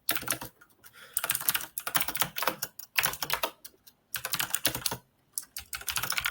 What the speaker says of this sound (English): With your very loud keyboard.